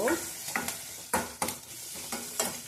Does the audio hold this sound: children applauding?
no